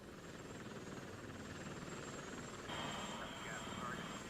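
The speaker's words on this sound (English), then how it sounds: "8 Apaches armed with Hellfire missiles took off towards Iraq." Eight Apache attack helicopters armed with Hellfire missiles flying toward Iraq on a moonless night during the Gulf War, a steady rotor and engine roar running throughout, growing slightly louder near the end.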